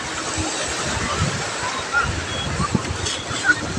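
Sea waves wash and roll at Murdeshwara beach, a steady close roar with wind buffeting the microphone and a few surges, and faint voices mixed in.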